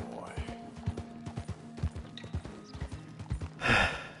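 Horse hooves clip-clop in a steady rhythm in the Red Dead Redemption 2 video game, close and fairly loud, with a short burst of noise near the end that could be a whinny or snort.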